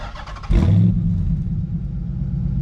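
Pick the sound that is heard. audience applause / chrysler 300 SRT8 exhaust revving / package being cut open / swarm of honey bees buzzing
chrysler 300 SRT8 exhaust revving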